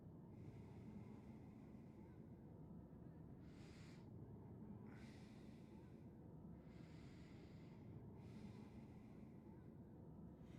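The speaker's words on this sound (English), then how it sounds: "I wish James would stop breathing in pain" James, the Silent Hill 2 Remake protagonist, breathing in pain: faint, ragged breaths recurring every second or two over a low, steady ambient drone.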